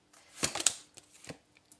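Tarot cards shuffled by hand in a few quick riffling bursts, the loudest flurry early on followed by a softer patter and a couple of isolated faint flicks, all close and quiet with no talking.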